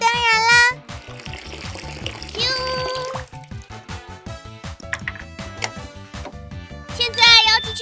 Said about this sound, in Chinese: 请放入水哦